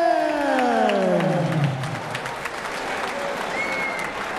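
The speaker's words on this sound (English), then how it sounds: "a huge round of applause for our gallant runner-up, Danny Cornwall" Crowd applause fills a boxing fight venue right after a first-round knockout, steady and loud throughout with cheering mixed in, while an announcer's amplified voice carries over the clapping.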